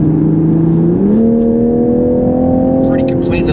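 A 2021 Toyota Supra sports car accelerates on a freeway, its engine note rising steadily in pitch as it pulls, loud and close, with a steady droning tone throughout.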